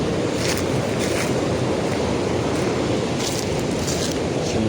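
Rushing river water pours over a dam that diverts the flow into an irrigation canal. The roar is loud, constant and broadband, with wind buffeting the microphone now and then.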